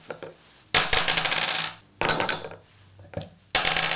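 Dice clatter onto a wooden board-game tile with a rubber backing that dulls the impact. There are three separate throws, each a sharp burst of rattling and bouncing that settles and fades, with quiet gaps between them.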